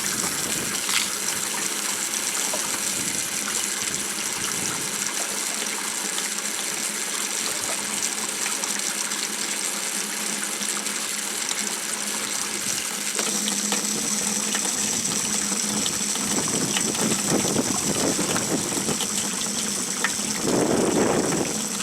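Sodium hypochlorite is pumped through a meter into a softwash tank on a portable caddy, making a steady, continuous gushing flow that holds for about twenty seconds with slight surges near the end.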